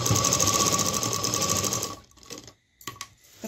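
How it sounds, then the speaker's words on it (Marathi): A sewing machine runs a straight stitch along the shoulder seam of a heavy embroidered blouse with lining. Its close, steady whir lasts about two seconds, then stops, and faint handling noises follow. "अशी स्ट्रेट शिलाई मारून घेते, म्हणजे शोल्डर आपली फिनिशिंग सह जोडली जाईल"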